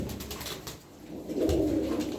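An Arab pigeon with one clipped wing coos nearby, a low throaty rolling call that swells louder toward the end, with no voices.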